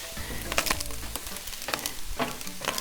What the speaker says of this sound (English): this rice has been frying for some time now